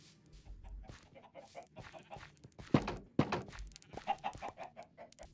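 Chickens in the video game RockWorld clucking in scattered bursts at a moderate level, mixed with soft thunks and footstep-like taps, including two sharper knocks midway; no speech.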